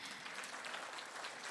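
A crowd applauds steadily, dense hand claps filling the moment without a break, fairly distant and even.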